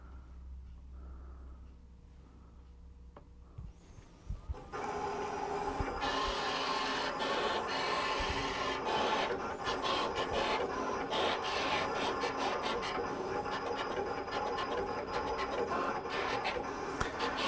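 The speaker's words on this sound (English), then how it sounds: "I don't know if you can hear the actual cutting. It sounds a little different than standard vinyl" A Roland GS24 vinyl cutter slicing reflective heat transfer vinyl, heard as a steady close mechanical whir and rasp starting after a few seconds of quieter hum and continuing without a break.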